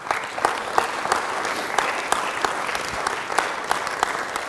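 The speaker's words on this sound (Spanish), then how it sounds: "Denle un aplauso al Rey." A church congregation applauds in a steady, sustained burst of many hands clapping, filling the room evenly without voices on top.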